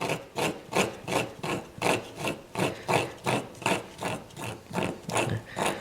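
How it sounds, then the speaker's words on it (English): Rhythmic hand scraping of a layer of gunk off a part from an abandoned 1962 AMC Rambler, about a dozen even back-and-forth strokes, close and moderately loud. "This is covered in a layer of gunk, and I'm scraping it off."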